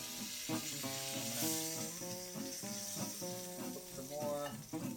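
Filipino lumpia fry in hot oil with a steady, broadband sizzle, close and continuous, while background music with sustained tones plays underneath throughout.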